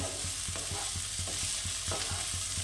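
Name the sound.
frying spring onion greens in a pan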